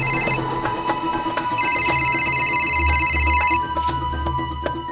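A telephone rings in a tense indoor drama scene, the electronic ring repeating in two bursts over a steady background music bed, loud and close, with no talking.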